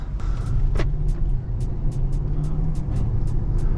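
Cabin of a 2022 BMW 750i xDrive on a night drive, with a steady low road rumble and engine hum filling the interior and faint regular ticking clicks over it, close and continuous.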